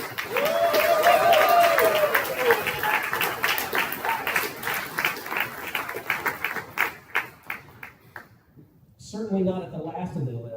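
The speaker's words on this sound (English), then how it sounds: "Would y'all give your MAs and receptionists and team a round of applause?" A graduation audience at a medical care ceremony claps in a sustained round, with a voice talking over the start, the clapping thinning out before a brief resumed voice near the end.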